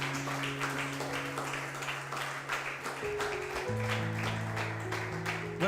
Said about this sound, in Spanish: Dele ese fuerte aplauso a Dios.